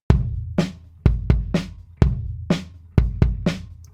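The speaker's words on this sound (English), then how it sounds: "If I listen to just the crushed bass drum." A heavily parallel-compressed, crushed bass drum track heard solo, with loud, dense kick hits in an uneven groove of about nine strikes, each thick with sustained low-end body and a sharp bright attack.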